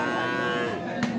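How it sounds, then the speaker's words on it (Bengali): A dairy cow lows with one long, close moo at a busy cattle market. "এই যে গাভী"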